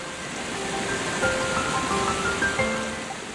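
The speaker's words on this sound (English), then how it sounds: "The Orinoco flows with powerful force between gigantic stones, creating waterfalls, rough waves, and whirlpools." The Orinoco River roars steadily as it rushes over gigantic rocks in rough waves and waterfalls, a continuous broad wash of water heard alone.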